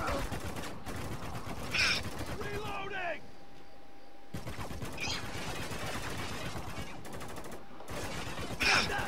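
Heavy machine gun fire in the war shooter Spec Ops: The Line, dense rapid bursts running through most of the clip amid other gunfire, with shouted voices over it and a brief quieter gap midway.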